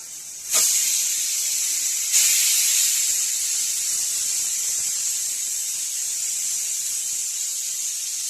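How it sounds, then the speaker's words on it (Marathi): A pressure cooker whistle releases a loud, steady, high-pitched steam hiss that starts abruptly, surges again a moment later and keeps going. "झाले आपल्या 3 शिट्ट्या। आता कुकर उघडून पाहू आपण।"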